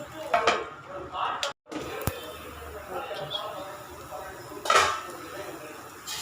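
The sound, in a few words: lid being placed on a pan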